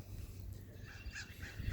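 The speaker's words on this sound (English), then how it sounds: "So you can hear all the birds and everything here." Birds call outdoors in the evening, a few honking, goose-like cries standing out faintly over a steady low background hum, with no voices.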